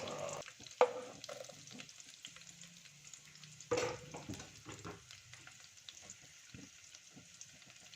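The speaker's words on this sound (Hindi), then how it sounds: "उसके बाद हम कटी हुई प्याज और कटी हुई हरी मिर्चें इसके साथ ही फ्राई करेंगे।" Chopped onions and green chillies fry with cumin seeds in hot oil for aloo ki bhujia, a continuous soft sizzle with a couple of sharp clatters as the pan is stirred, moderately close and without talk.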